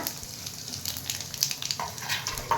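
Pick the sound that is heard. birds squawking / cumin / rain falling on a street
cumin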